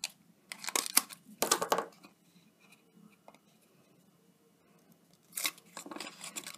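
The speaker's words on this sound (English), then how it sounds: "I'm going to put some tape just along this wedged edge here" Tape is pulled and pressed along the wedged edge of a paper chocolate treat box, heard as short close crinkly bursts separated by quiet pauses.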